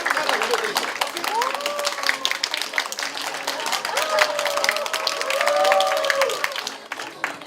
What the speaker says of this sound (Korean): 윤선 대표님께 감사의 박수를 전해주시기 바랍니다